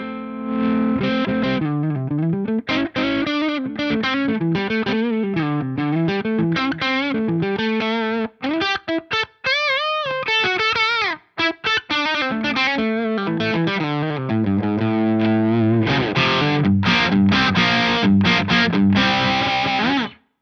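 Heavily distorted electric guitar through a high-gain tube amp plays a melodic riff, then settles into thick chugging chords, loud and saturated throughout.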